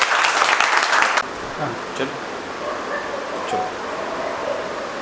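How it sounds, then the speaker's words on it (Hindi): A burst of loud clapping from a crowd lasts about a second, then cuts off into a steady noisy background with faint scattered sounds. "एक बार एमडी से लिए जोरदार ताली बजाओ"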